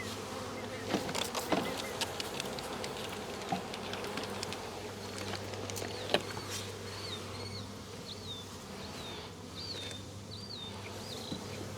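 A steady hum of many honey bees buzzing around a hive box, close and continuous, with scattered brushing and tapping sounds as bees are swept off the box, and a few faint bird chirps.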